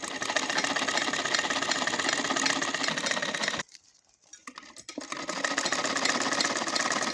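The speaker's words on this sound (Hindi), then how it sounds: "फिर हम सिलाई करेंगे।" A sewing machine runs steadily while stitching folded fabric, its rapid needle patter and motor hum briefly dropping away into a pause before the stitching resumes at full, even speed.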